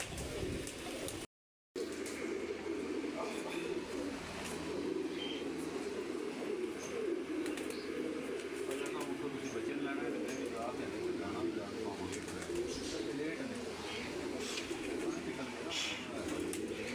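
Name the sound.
pigeons cooing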